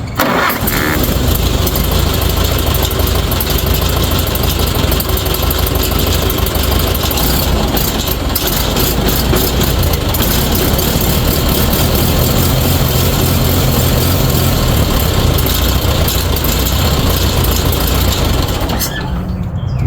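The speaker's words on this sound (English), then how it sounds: "no choke, cold start, and it fires right up" A 1952 Farmall Super A tractor engine starting cold without choke and settling into a loud, steady, close idle that runs continuously, then cuts off abruptly at the very end.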